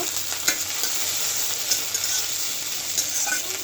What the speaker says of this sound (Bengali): পেঁয়াজ রসুন প্রায় ভাজা হয়ে গেছে